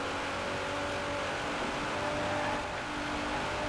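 A race car in Forza Horizon 4 drones steadily in top gear, its engine holding a high, even, sustained pitch at constant loudness, with no voices.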